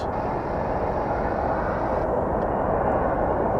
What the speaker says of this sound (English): Okay, looks like our MD-11 is getting ready to take to the skies.